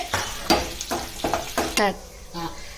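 Mustard seeds, cumin, onions and dried chillies dropped into hot oil for a tempering, a series of bursts of crackling sizzle with stirring between them, close up, while a person talks over the cooking.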